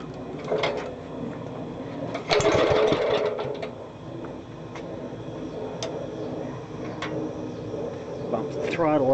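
A Wisconsin engine mounted on a Master genset clatters with a rhythmic mechanical ticking during a start attempt, with a louder burst early on, and someone talks over it.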